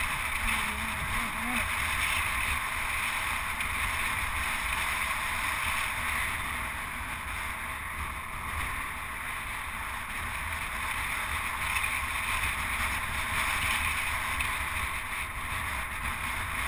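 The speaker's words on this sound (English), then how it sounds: "That's high wind!" Strong wind roars and buffets steadily across the microphone on a downhill bike ride on the Cuesta del Lipán toward Purmamarca, a dense rushing noise that never lets up, with no speech.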